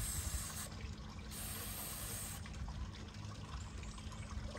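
A carburetor part from a Honda G300 engine is rinsed with clean liquid, a steady close pouring and trickling of fluid that runs for the whole few seconds with no talking.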